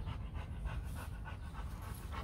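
A working-breed dog pants rapidly and rhythmically close by, with fast, even breaths that continue without pause.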